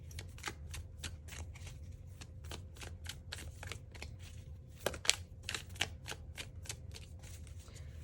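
Tarot-style reading cards are shuffled over and over in a quiet room, making a fast run of soft, crisp riffling flicks at close range with nobody speaking.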